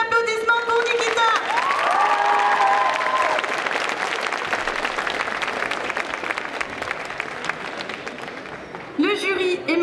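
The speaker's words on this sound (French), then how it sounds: "Je veux un tonnerre d'applaudissements pour Nikita!" At a Japan pop culture show's cosplay contest, a large crowd bursts into loud sustained applause with cheers and whoops for a jury member, while an announcer's voice sounds over the start and again at the end.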